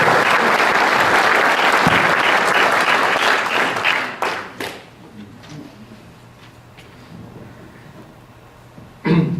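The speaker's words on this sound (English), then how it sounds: "So if you'd all give those folks a round of applause" Full-room applause at a charitable fund's annual meeting, steady and loud for about four seconds, then tapering to sparse claps and near silence before a brief final burst of clapping.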